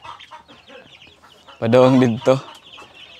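Backyard chickens in a farm pen let out a loud burst of clucking and squawking about halfway through, with quieter bird calls and someone speaking before it.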